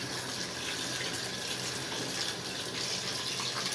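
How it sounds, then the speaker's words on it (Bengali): Tap water runs steadily into a sink while raw meat is washed before cooking, a constant broadband rush with no talk. "এই ধোয়ার পর্ব চলছে।"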